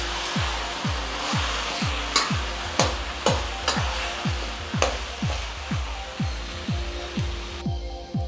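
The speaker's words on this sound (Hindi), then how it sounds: "करछुल के सहायता से इसे अच्छी तरीके से तोड़ तोड़ के मिक्स कर लें" A ladle works through boiled red amaranth greens in a pot, breaking and mixing them in a steady series of scraping strokes about twice a second, close and fairly loud with no talk.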